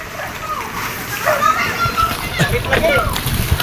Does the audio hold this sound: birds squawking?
no